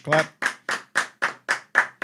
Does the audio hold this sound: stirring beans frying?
no